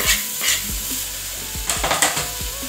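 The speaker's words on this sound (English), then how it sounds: "So add your onions to your cooking pot." Onions hitting hot oil in a cooking pot for a beef stir fry, a steady close sizzle with a few sharp scraping stirs and clinks of a utensil against the pot.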